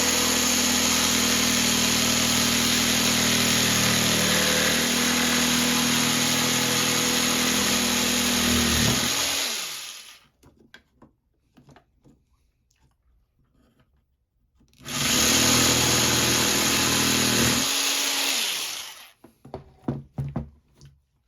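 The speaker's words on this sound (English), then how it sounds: "The jigsaw makes for quick work." A jigsaw cuts through a bamboo tube for a popper, running loud and steady for about ten seconds, falling silent, then buzzing through a second shorter cut before stopping.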